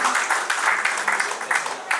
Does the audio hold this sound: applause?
yes